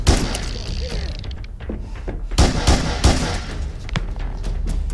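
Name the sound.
gunshots with reverb in a film scene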